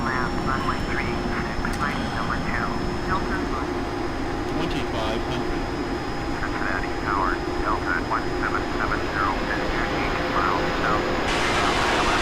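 Cessna Citation CJ4 business jet engines in the Prepar3D flight simulator, a steady full-power roar with a constant whine on top, continuous throughout while a voice talks over it.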